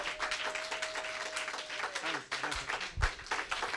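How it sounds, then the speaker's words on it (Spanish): Congregation applause during an evangelical church service, a dense, sustained wash of many clapping hands mixed with voices and music-like tones, moderately loud throughout. "Fuerte aplauso para el Señor y para el hombre de Dios."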